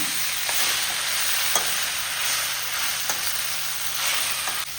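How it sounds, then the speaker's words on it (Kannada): Whole spices crackle and sizzle in hot oil as a tempering is poured in for a traditional Mangalorean dish, a steady dense frying hiss with small pops and spits, close and loud, no voices. "ನಂತರ ಒಗ್ಗರಣೆ ಬಿಡ್ತೇನೆ"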